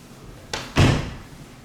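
A door opening in a model cottage house, heard as a soft click followed by a louder thud and a short rattle, close and alone with no talking.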